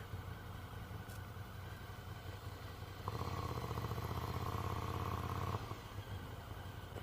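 A Ducati Scrambler motorcycle engine idles with a low, steady rumble, rising briefly to a louder, busier hum midway before settling back down.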